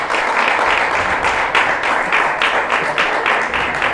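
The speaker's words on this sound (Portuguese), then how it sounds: "as palmas do Senhor" A church congregation claps loudly in steady, dense applause after a prayer during a Portuguese-language service, a continuous wash of hands with slight swells and no talk over it.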